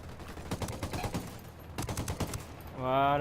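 Gunfire from the video game Ghost Recon Wildlands crackles in two dense bursts of rapid shots, followed by a brief sustained tonal blare at the end.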